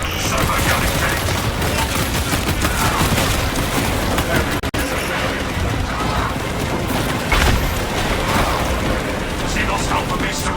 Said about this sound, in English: Servo gun engaged.